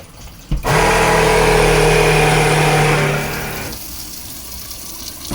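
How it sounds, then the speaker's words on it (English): A Jabsco freshwater marine pump on a boat runs with a steady, loud motor hum and whine that kicks in abruptly, holds for about three seconds, then drops to a quieter drone. "This is the freshwater pump, that's the Jabsco."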